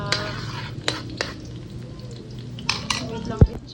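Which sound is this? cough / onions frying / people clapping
onions frying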